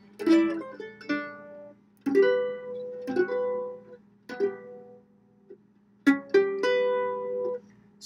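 Mandolin chord melody: a series of strummed, ringing chords with the melody note on top, each struck cleanly and left to decay, in an unhurried phrase-by-phrase rhythm with brief pauses between groups.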